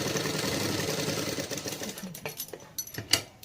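A sewing machine stitches a blouse with a fast, steady mechanical whirring and clatter, then slows into scattered clicks and taps as the stitching stops, heard close and fairly quiet.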